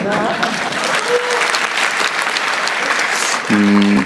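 An audience at a town-hall meeting with the president in Daegu, South Korea, applauds, a sustained wash of clapping filling the whole clip under faint voices.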